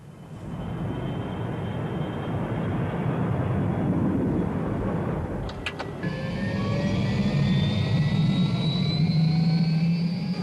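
The Sky9 news helicopter's engine runs at the south ramp at Combs Gates ahead of a westerly departure, a loud steady turbine roar with whining tones that climb in pitch after a short clatter midway.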